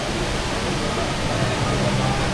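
Indoor waterfall inside Changi Airport, Singapore, pouring as a steady, dense broadband rush of falling water that stays even and loud throughout, with no distinct pauses.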